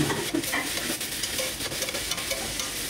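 Onions frying in a pan for a Bengali saury fish dish, stirred steadily until browned; a continuous loud sizzle with repeated scraping stir strokes, close up and without voices.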